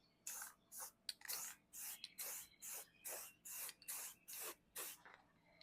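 Short hissing bursts of a spray paint can laying a light coat of satin white onto a Ram Sprinter grille, about ten quick even sprays in a steady rhythm with brief pauses between.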